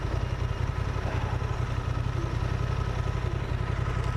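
A Honda Transalp motorcycle engine runs steadily in London traffic with a low, even drone and faint clatter, heard at moderate level without any talking.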